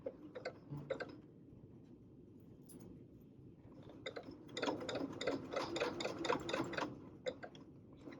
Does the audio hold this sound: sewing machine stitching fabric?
yes